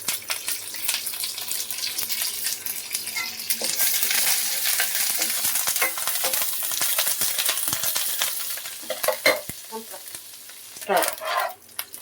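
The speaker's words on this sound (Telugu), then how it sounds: "ఇప్పుడు కరివేపాకు వేసుకుంటున్నాం." Curry leaves drop into hot oil for an evening poha snack, giving a crackling sizzle with bursts of spattering and stirring scrapes that grow sharper toward the end, close and with no speech.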